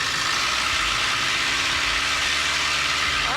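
A small airplane engine runs up to full power before takeoff, a steady, loud, buzzing drone with no voices over it.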